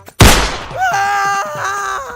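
A single sharp gunshot blasts out in a first-person shooter video game, followed by a sustained, wavering tonal groan or cry from an in-game character.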